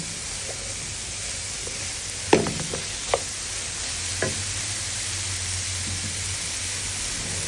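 Vegetables sautéing in a pan with a steady, even frying hiss, broken by a few light utensil knocks and stirring clatters over a low background hum.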